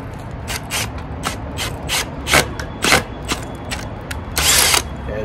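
A drill bit reams out a hole in concrete for a railing post repair, giving repeated short grinding bursts with a ratcheting, rubbing texture, close and moderately loud, with a longer harsh burst near the end.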